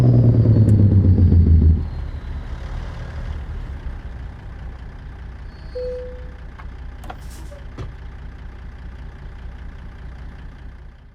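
A modded heavy truck engine in American Truck Simulator revs loudly for about two seconds, then settles into a steady, quieter idle rumble that holds to the end, with a brief faint tone partway through.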